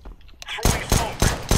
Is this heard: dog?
no